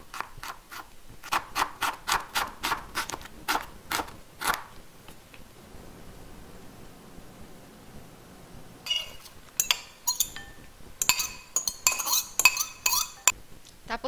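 A knife cuts through an onion for eggplant kinilaw, giving a run of sharp, evenly spaced chops at first, then a quiet pause and a later burst of quicker, scraping cuts and clinks against the board.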